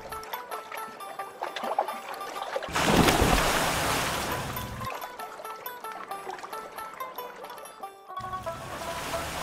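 Someone splashes and plunges into weedy pond water while bathing, a loud rushing burst of water lasting a couple of seconds, followed by gentler lapping, set against soft background music.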